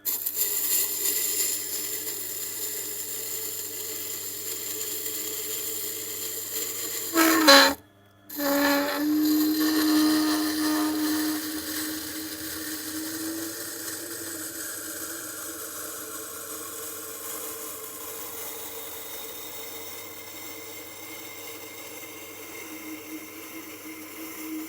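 A Tormek sharpener grinds a pair of gigantic upholstery scissors in a steady, continuous abrasive whir. A brief loud scrape and a short gap break it partway through, then the grinding carries on evenly and close.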